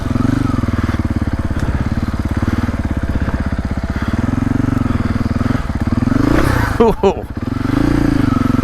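A 2025 Husqvarna FE450 Heritage Edition dirt bike chugs at low, steady revs over rain-slick rocks along a river trail, its thumping exhaust close and loud, with a burst of clattering and a blip of throttle near the end and a brief rider remark.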